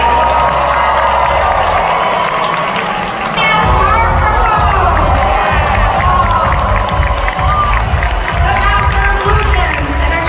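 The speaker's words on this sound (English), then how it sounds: "One more time, give a big round of applause, everybody." A large Comic Con crowd applauds and cheers loudly in a dense, continuous roar. Shouts and whoops rise through the sustained clapping, and a booming low rumble runs underneath.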